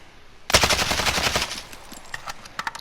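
An AK74 rifle in Modern Warfare fires one loud, rapid full-auto burst of about a second. Sparse clicks and small mechanical sounds follow as the burst ends.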